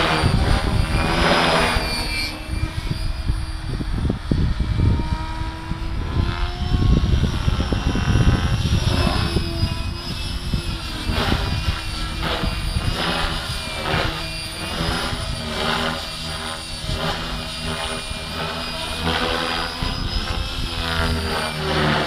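A Gaui X5 RC helicopter running on Glacier 4400mAh 35C battery packs flies steadily, its rotor and motor producing a loud, continuous whine with a pulsing blade chop that rises and falls as it maneuvers nearby.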